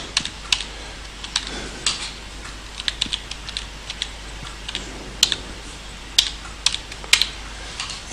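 Rapid, uneven keystrokes on a computer keyboard as a card number is entered into a fuel management system, the clicks close and distinct over a faint steady background hum, with no voices.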